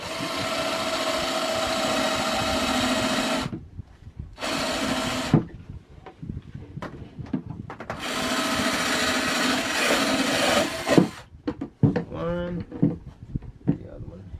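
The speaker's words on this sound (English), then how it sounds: "Got a 1/2 inch bit on there." Power drill with a 1/2 inch bit boring through wood, running in two sustained loud bursts with a brief pause between, followed by clatter and handling noises as the tool is set down.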